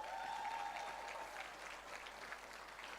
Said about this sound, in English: please, give Alain another round of applause.